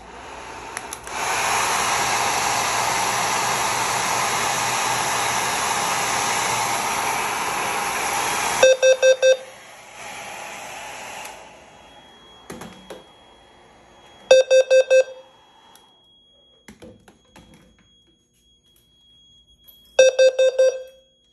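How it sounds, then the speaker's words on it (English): A hair dryer blows steadily onto a heat detector during a Notifier SFP-1024 fire alarm panel test, a loud continuous whoosh for about eight seconds, then stopping and giving way to short bursts of electronic beeping tones. "I got the hairdryer with me"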